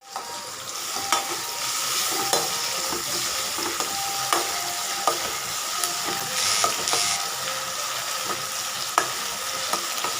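Onions sauté in a pan with a continuous sizzle, punctuated by regular sharp clicks and scrapes of a spatula stirring against the metal, close and fairly quiet.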